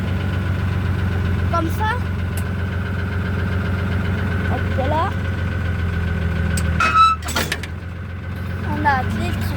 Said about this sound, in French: On a appelé le tracteur.